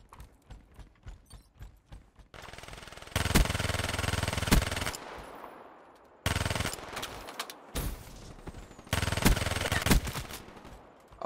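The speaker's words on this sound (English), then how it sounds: "This is the KM44 with almost no recoil." KM44 rifle fired in a video game, a few sharp single shots followed by long loud bursts of rapid automatic fire with short pauses between them.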